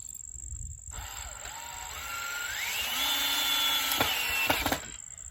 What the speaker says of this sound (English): I'm gonna take my drill and take my screw. I'm gonna screw this in right here.